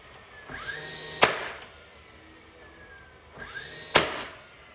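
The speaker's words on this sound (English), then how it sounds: "I'm using a pin nailer because the little brace that I made is only a 1/2 inch thick." A pin nailer drives pins into a half-inch-thick plywood brace on a wooden ski rack, giving two sharp, loud pops about three seconds apart, each preceded by a brief handling rustle.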